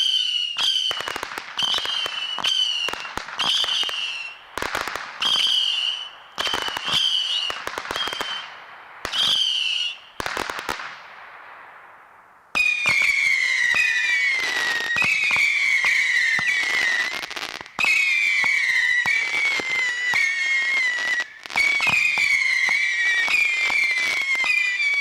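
A Rage Missiles 92-shot firework cake fires loudly in rapid succession, each shot a whistling rise followed by crackles and pops, with brief pauses between volleys and denser bursts in the second half.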